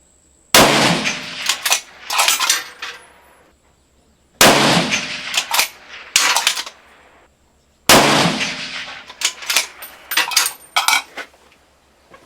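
Three loud, close rifle shots fired with Hornady ammunition through a barrel fitted with a TMB barrel tuner set at 2 hash marks, each blast followed by rattling and clinking from the action and spent brass.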